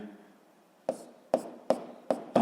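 A physics equation being written by hand, with four quick, distinct taps or strokes of pen or chalk spaced about half a second apart, close and fairly quiet, no talking.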